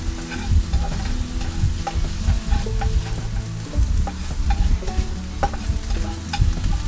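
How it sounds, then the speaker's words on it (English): Onions with a teaspoon of honey are stirred in a hot pan, giving a continuous close sizzle with repeated scraping and clacking strokes and no talk. "we're going to mix that up. Get that honey in the onions."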